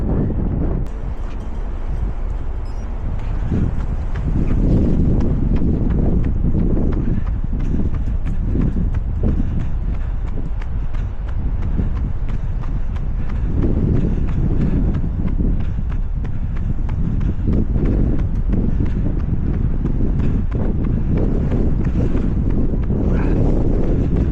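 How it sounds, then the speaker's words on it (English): Fierce, constant wind buffets the microphone on a seafront during a parkrun after rain, a loud, steady roar with gusty surges and rumbling low buffeting throughout, no voices. "The rain stopped, but the wind is fierce"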